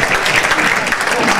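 Audience applause at a science panel talk, a dense, steady wash of many hands clapping close and loud throughout, with a voice faintly mixed in.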